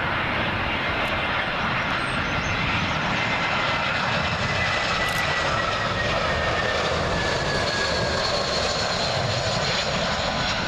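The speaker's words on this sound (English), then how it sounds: "Up next, we've got a British Airways A320." A British Airways Airbus A320 inbound from Hamburg roars steadily on final approach to Heathrow runway 27L, a loud, continuous broadband engine rumble sustained throughout without voices.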